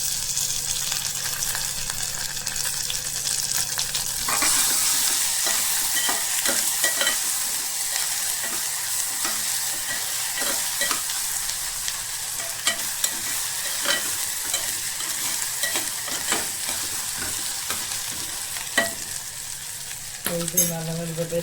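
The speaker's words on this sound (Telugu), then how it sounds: "మగ్గిపోయింది ఆనియన్. కొద్దిగా వేపుకుందాము." Chopped onion sizzles and fries steadily in a pan, with repeated scraping stirs clacking through the constant hiss, close and alone.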